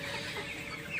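Broiler chickens on a small farm at night, a steady low chorus of soft clucking and murmuring that runs on throughout, with no single bird standing out.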